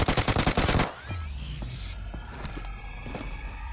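A UMP submachine gun in PUBG Mobile fires a fast, loud, close burst for under a second, followed by fainter distant shots and scattered impacts.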